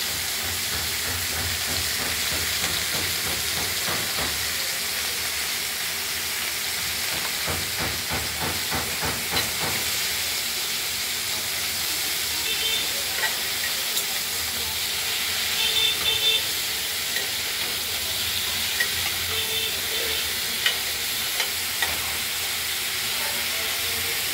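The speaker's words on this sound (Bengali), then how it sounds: "এবার স্বাদ মতো আমরা নাড়াচাড়া করে তারপর ভেজে দেবো" Ridge gourd coated in poppy seed paste fries in a pan with a little turmeric, giving a continuous soft hiss and steam with scattered clicks from stirring in the early part; no voices.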